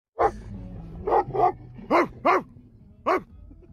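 A dog barks six times in short, sharp bursts, grouped irregularly with brief pauses, loud and close against a quiet background.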